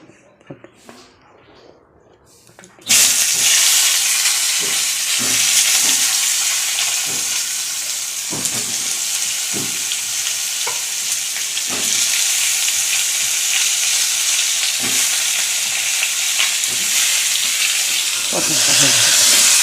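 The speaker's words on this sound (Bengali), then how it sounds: "পেঁয়াজটা ভেজে নিলাম" Onion fries in a pan, starting with a few faint knocks and then turning into a sudden loud, sustained sizzle that hisses evenly throughout, punctuated by occasional scraping stirs.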